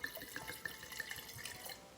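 Red Cabernet wine, 2016 Tolaini, poured from a bottle into a glass, a soft trickling liquid flow with faint glugs, quiet and close.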